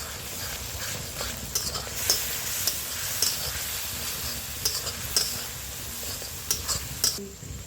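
Marinated spice paste fries in a pan, a steady hissing sizzle throughout, punctuated by repeated spoon scrapes and taps against the metal.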